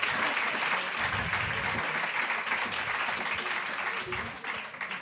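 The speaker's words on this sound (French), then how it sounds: "je voudrais qu'on les applaudisse quand même" Conference audience applauding the speakers at a fundraising conference, dense sustained clapping from a sizable crowd, fairly loud and continuous, tapering slightly at the end.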